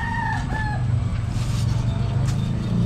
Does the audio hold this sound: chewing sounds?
no